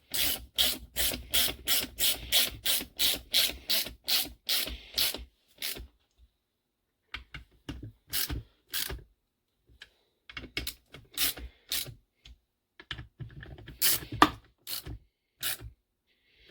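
Ratchet tightening bolts on the bottom end of a 1984 Kawasaki KDX 200 engine rebuild: a fast run of close, crisp clicks for several seconds, then scattered shorter bursts of ratcheting after a pause.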